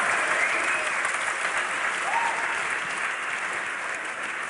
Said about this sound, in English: Let's give a cheer for Lee Sin and Annie